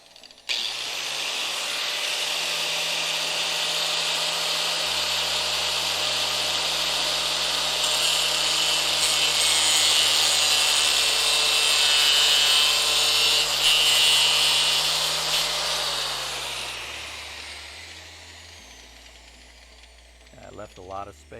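A power tool grinds steadily through metal in a garage, throwing sparks, a loud continuous harsh whine lasting most of the time before winding down into a few clanks.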